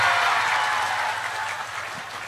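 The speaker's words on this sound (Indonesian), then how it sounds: "Berikan tepuk tangan, boleh." An audience at an Islamic religious gathering in Taiwan applauds in a dense, even patter that gradually tapers off over a couple of seconds, with no one speaking.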